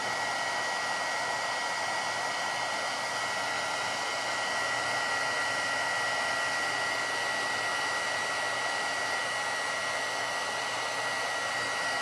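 A heat embossing tool blows a steady, unbroken hiss of hot air over a stamped card with embossing powder, holding the same level for the whole stretch, with no talk over it.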